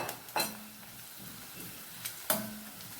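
Keema-style cashew fry cooks in a generous amount of oil in a pan, a faint, soft sizzle broken by a few light clinks and scrapes of a stirring spoon.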